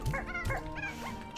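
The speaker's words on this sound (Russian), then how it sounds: "Простите, курочки." Chickens in the video game Slime Rancher 2 cluck in a short, busy run of rising and falling calls, near and fairly loud, with no talk over them.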